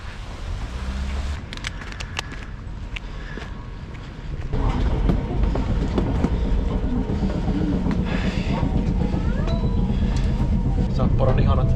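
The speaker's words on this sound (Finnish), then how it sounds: "Sapporon ihanat vanhat ratikat. Kolisee, rämisee, kilisee." Old trams rattling through snowy Sapporo, Japan, a loud rumbling rattle that swells partway through with clanking and squealing on top, heard up close and continuous.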